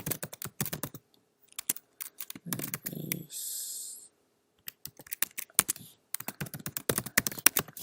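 Keys clatter in rapid irregular bursts on a computer keyboard as account details are entered, with a short pause and a brief clicking break midway, close and fairly clear.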